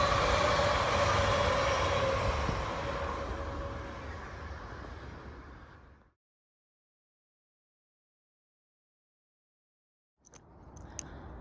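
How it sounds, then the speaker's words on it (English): An E commuter train in Kilo, Espoo, Finland, bound for Helsinki Central, rumbles past loudly and steadily, fading out, followed by a few seconds of silence before another rolling rail sound begins. "So this is the E train that goes to Helsinki Central Railway Station."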